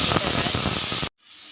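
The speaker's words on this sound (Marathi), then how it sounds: "आता इकडं आपली कुकरला डाळ शिजते" A pressure cooker cooking dal lets out a loud, close, continuous steam hiss that cuts off abruptly, followed by a faint quieter background.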